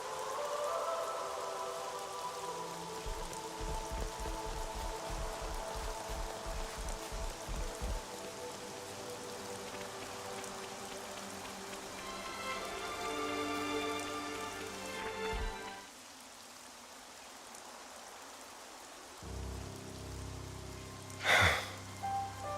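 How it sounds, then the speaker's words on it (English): Steady rain patters on a surface in the video game Xenoblade Chronicles 3, with layered tonal sounds and rhythmic thumps over it, then a quieter stretch and a sharp burst near the end. "Rain, a blessing."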